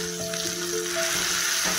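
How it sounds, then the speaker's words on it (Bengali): Mashed boiled potato hits hot oil in a pan, with a bright, steady sizzle and crackle close by, alongside a few faint tonal ringing notes. "এবার যে আলু সিদ্ধটা মেখে রেখেছিলাম এটাই তেলে দেবো"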